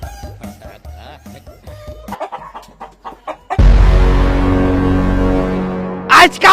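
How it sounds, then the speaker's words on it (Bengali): Chickens cluck near a village homestead, a run of short, clipped clucks that is followed by a louder, sustained burst of sound. "আজকাও ভিটাত মুরগি ঢুকিয়া"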